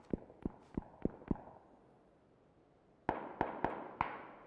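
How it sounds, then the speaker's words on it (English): Video game gunfire in PUBG: a rapid string of five sharp shots, a pause of nearly two seconds, then four more cracking shots, each crisp and fairly close, with no talk over them. "He's getting shot at now"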